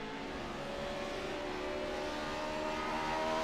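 A GR86 race car engine in a sim racing game holds a steady, loud, sustained drone with faint harmonic whine, climbing slightly in level toward the end, with no talking.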